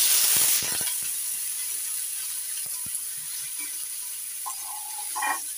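Chopped green tomatoes dropped into a hot pan with fried chillies, a dense hiss strongest at first that settles into a steady, softer sizzle with a few light clicks.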